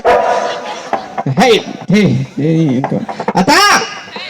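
Several dogs bark and yelp in quick, loud, high-pitched bursts nearby, with short gaps between calls and some whimpering.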